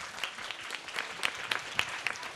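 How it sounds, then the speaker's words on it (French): An audience at a French-language stage show claps warmly for a guest: a dense, continuous patter of many hands at moderate loudness, with no speech. "si on aime Tata Yidissa, on l'applaudit encore bien fort"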